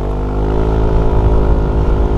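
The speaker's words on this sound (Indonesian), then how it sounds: "Di sini gue pakai knalpot dari Rob One" A Yamaha NMAX scooter with a bore-up engine and a Rob One aftermarket exhaust revs loudly and steadily up close, its dense harmonic drone holding for a couple of seconds with no talking.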